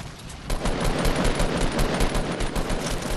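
Sustained automatic gunfire from an opposing team in a video game, a loud, dense rattle of rapid shots that starts abruptly and keeps going without pause.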